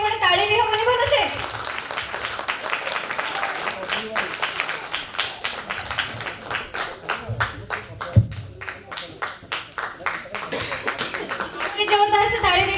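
Audience at an annual day celebration of a social organization applauds at length, a dense wash of clapping that swells and thins over about thirteen seconds, with a voice speaking over it at the start and end.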